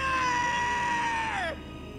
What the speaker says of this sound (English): That scream is gut-wrenching.